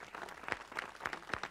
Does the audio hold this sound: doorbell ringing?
no